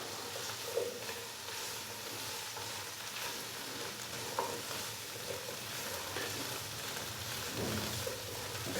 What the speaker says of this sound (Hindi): तो अभी मैं कढ़ाई के अंदर गोभी डाल दूंगा। गोभी डालने के बाद अच्छे से इसको मिक्स करेंगे।